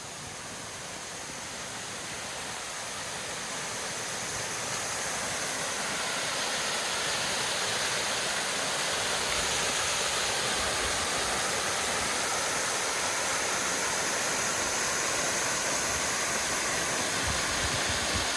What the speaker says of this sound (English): come out here and look at the pretty falls. You can already start to hear them.